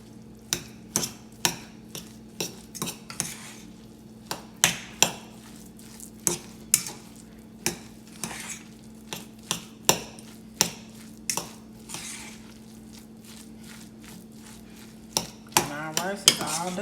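A utensil fluffs and mixes cooked cilantro lime rice in a pot, making a steady series of close, short scrapes and taps with a faint hum underneath and no talking.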